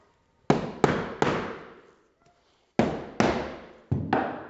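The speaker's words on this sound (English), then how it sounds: "Another knock." Sharp, resonant knocks strike a wooden summerhouse door frame to square it up: three quick blows, a pause, then four more in close succession, each ringing out and fading.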